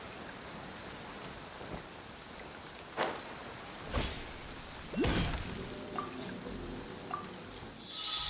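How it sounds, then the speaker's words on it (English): Steady rain falling across a scene in the video game Genshin Impact, a continuous hiss with a few sharper thumps and rumbles breaking through, heard without any talk. "Let us find shelter from the rain."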